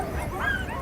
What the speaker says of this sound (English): As they get rigged in, the energy of each dog adds to the collective